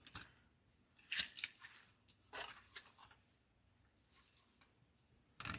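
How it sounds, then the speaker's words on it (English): Scissors trimming flower stems for a Christmas centerpiece: several crisp close snips in small bursts separated by quiet pauses, a final cut at the end, no voices. "Trim those stems up."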